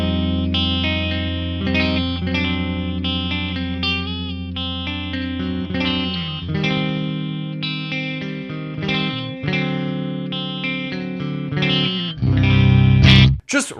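Kiesel electric guitar on its middle pickup playing a clean tone, a full, ringing run of chords and single notes with deep low end, close and steady throughout, ending in a brief louder strum.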